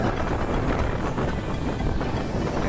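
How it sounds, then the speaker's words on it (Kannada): A Konkan Railway train rumbles past nearby, a dense, steady roar of wheels and rail noise with faint rhythmic clatter throughout, no voices. "train ಬರೋದೊಂದು train"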